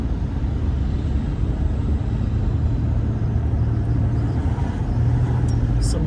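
A car driving along a city street toward Queen Street, steady low engine and road rumble with broadband traffic noise, fairly close and continuous, with no voices.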